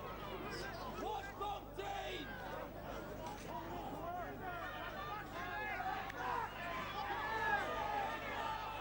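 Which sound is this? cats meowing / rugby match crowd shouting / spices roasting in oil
rugby match crowd shouting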